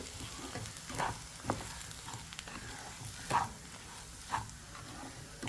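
Semolina (rava) for upma dry-roasts in a pan, giving a soft, continuous dry sizzle with a few louder scraping stirs at irregular intervals, close and fairly quiet.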